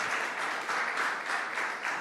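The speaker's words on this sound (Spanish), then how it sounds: "dale un aplauso al Señor" Church congregation applauding during a sermon, a steady wash of many hands clapping at moderate, slightly distant loudness, with no talk over it.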